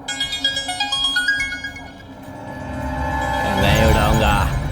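A mobile phone rings with a melodic tone in a rhythmic repeating pattern, loud and close, then fades as a swelling music score takes over.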